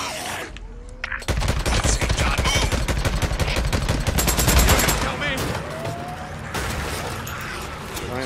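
Sustained automatic gunfire aimed at a large horde of enemies in the Days Gone video game, loud rapid shots hammering on for several seconds in a dense, continuous burst.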